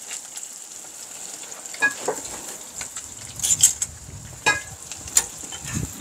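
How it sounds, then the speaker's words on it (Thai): Thai fish cakes made with mulberry leaves deep-frying in hot oil, a continuous bright crackling sizzle broken by several louder stirring scrapes and bubbling bursts, close up and without talk. "เห็นไหมเริ่มเหลืองแล้วทอดกะว่าให้มันสุกด้านในด้วยนะคะ"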